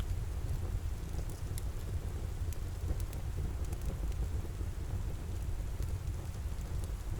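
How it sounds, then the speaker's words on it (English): Steady rain patters on a quiet cottage with a hearth fire crackling faintly underneath, broadband and continuous at moderate volume with occasional sharp pops and ticks. "Just listening to the rain, the fire, and allowing this quiet cottage to hold you."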